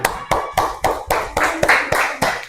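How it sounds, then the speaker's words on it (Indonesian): Nine slow, evenly spaced claps ring out close by as a classroom group in Batang applauds together after a student presentation. "yuk tepuk tangan"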